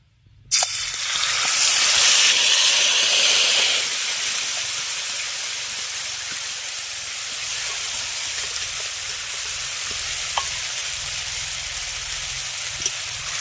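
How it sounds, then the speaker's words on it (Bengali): Neem flowers hit hot oil with a sudden loud hiss of frying that swells over the first few seconds, then settles into a steady, softer sizzle with an occasional faint clink. "তেল গরম হয়ে গেছে এবার তেলের মধ্যে মাখিয়ে রাখা নিম ফুলটাকে দিয়ে দেব"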